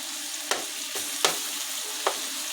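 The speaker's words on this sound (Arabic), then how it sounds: "هننزل بقى بالطحال، ده اخر حاجه معايا مش مستوي" Spleen frying in a pan with a drop of oil, a steady close sizzle with a few sharper crackles and scrapes at irregular intervals.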